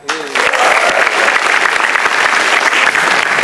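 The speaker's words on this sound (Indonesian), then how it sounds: "Tepuk tangan buat komik-komik kita." An audience at a stand-up comedy show breaks into applause after a brief moment, then keeps up a loud, even clapping that fills the rest of the moment without letup.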